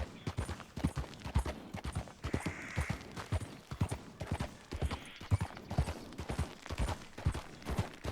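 Horse hooves clip-clop at a steady walking rhythm in Red Dead Redemption 2, the even beats continuing throughout at moderate loudness with no talk over them.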